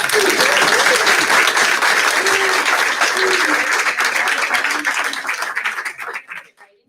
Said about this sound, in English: So let's give Lincoln a round of applause.